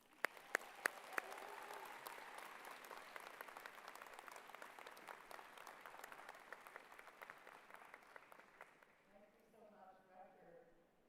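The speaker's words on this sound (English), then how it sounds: "graduates, please join me in giving your biggest fans a round of applause" Applause fills a university convocation hall, a dense steady clapping from a large audience that fades out near the end.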